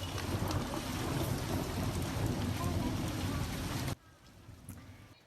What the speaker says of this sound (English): that storm cell pounded the San Fernando Valley with some very heavy rains